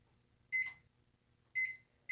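A microwave oven timer beeps in short, high electronic tones spaced about a second apart in an otherwise quiet kitchen, with the last beep cut off.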